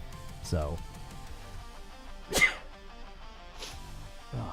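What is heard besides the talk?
sneeze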